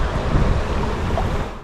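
Choppy water from a passing motorboat's wake slaps and splashes against a canoe on a small river in the Norfolk Broads, close and rough, with wind buffeting the microphone.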